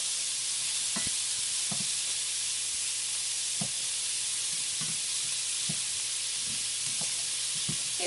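Pork sizzles steadily in a hot pan as its fat renders for a stir-fry, a dense continuous hiss broken by regular stirring knocks and scrapes.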